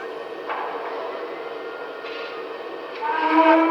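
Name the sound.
Lionel Erie Vision Triplex toy locomotive train sounds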